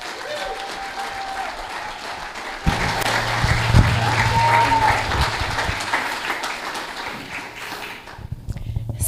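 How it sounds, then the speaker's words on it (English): Audience applause at a motivational speaking event, a sustained burst of clapping that swells after a few seconds, with a few thumps and taps, then thins out near the end. "let's do a big round of applause for Jeri Schlickburn."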